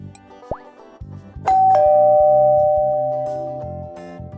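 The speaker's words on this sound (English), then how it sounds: "The doorbell rang." A doorbell rings with two clear chimes in quick succession, a loud bright ding-dong whose second tone rings out and slowly fades, after a short rising whistle-like chirp and faint knocks.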